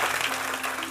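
Worshippers in a church service applaud together, producing a brief burst of dense, continuous clapping that fills the space evenly throughout.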